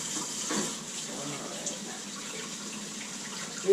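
Tap water runs steadily into a sink for rinsing chicken eggs, a close, continuous splashing hiss with a small knock at the end.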